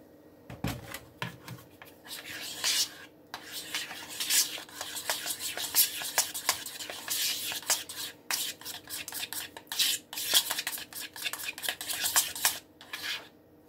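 A fork stirs ranch dressing in a bowl, giving irregular bursts of clinking and wet scraping that pause and resume, close and fairly loud, with no talking.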